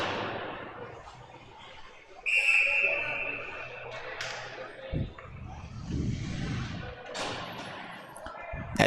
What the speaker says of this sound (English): So another whistle here with 6:20 to go.